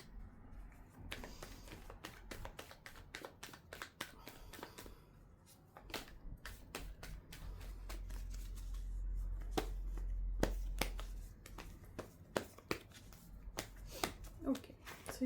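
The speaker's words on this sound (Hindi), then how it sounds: "तो अभी हम 3 कार्ड्स निकालेंगे" Tarot cards are shuffled and drawn in a reading, giving many crisp close snaps and riffles in irregular bursts over a quiet room with a low hum, with no talk.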